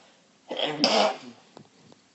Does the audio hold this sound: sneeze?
yes